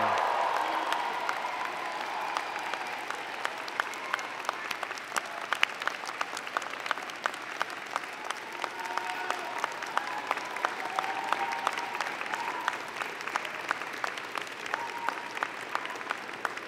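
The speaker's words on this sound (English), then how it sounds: "join me in applauding the amazing graduating class of June 2018" A university convocation audience applauds the graduating class, with sustained, moderately distant clapping and scattered sharp individual claps continuing steadily throughout.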